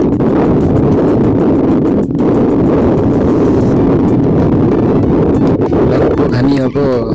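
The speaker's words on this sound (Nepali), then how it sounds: "अब हावा चलिरहेको छ मस्तसँग" Strong mountain wind in Nepal's Dhorpatan Hunting Reserve buffets the microphone with a loud, constant roar and low rumble that stays steady throughout, broken by one brief dip; a voice speaks faintly near the end.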